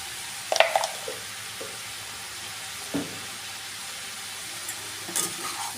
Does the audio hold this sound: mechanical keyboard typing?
no